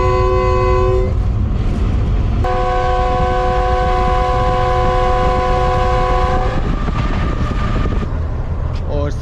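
Pakistan Express train running through Ditha railway station in Sindh without stopping, its horn blaring in long sustained tones over the constant rumble and clatter of the moving carriages, heard from on board.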